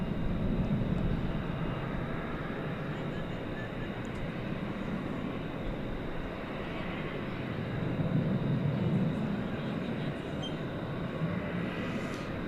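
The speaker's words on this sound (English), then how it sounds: "there goes a FedEx plane" A FedEx plane at DFW Airport rumbles faintly in the distance at night, a low engine roar that swells and fades gently over several seconds, with no voices.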